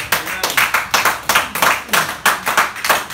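A church congregation claps in praise in a brisk, steady rhythm, about three claps per second, loud and close, with no talking.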